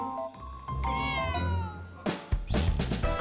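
A stray cat gives several loud, close meows in a row, drawn out and insistent, with a short caterwauling edge.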